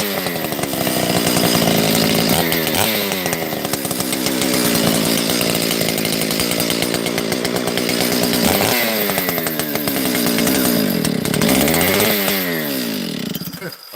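A Husqvarna 371XP chainsaw fitted with a 32-inch bar runs loud and close for the whole stretch, its engine revving up and down repeatedly with a rough, buzzing tone.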